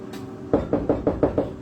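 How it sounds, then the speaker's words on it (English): Six firm knocks on a bedroom wall, evenly spaced and close, ringing out alone in a quiet kitchen setting. "Knocking on the wall."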